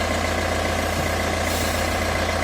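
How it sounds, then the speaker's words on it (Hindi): Vehicle engines idle in a traffic queue on a road near Dehradun, a steady loud low rumble with constant droning hum and no pauses. "तो ये कुछ वाहन जो अभी स्टार्ट हो रखे हैं"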